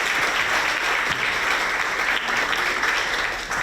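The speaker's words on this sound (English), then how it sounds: "let's have another round of applause for the teachers, for the staff, for everybody doing the work" Sustained applause from an audience at a school ribbon-cutting ceremony, clapping for teachers and staff, loud and steady throughout.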